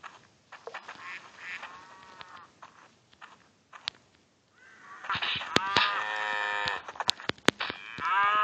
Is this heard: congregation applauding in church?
no